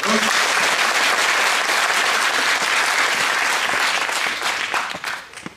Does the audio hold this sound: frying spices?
no